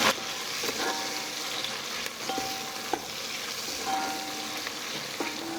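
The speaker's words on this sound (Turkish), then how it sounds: "Öncelikle salçalarımızı güzel bir şekilde kavuracağız." Red pepper paste and tomato paste frying in a pan, a continuous close sizzle with occasional scraping stirs of a spoon, and no voices.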